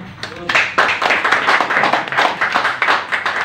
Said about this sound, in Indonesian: Tepuk tangan nih buat kawan-kawan semua.